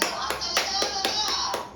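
Several people clapping in an uneven rhythm at a home birthday cake cutting, around seven close, sharp claps over about two seconds.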